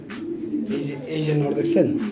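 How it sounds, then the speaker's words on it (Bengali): A female pigeon, one of a pair at a pigeon market, coos in low repeated throaty calls close by, with people talking around it. "এটা একটা মাদি কবুতর"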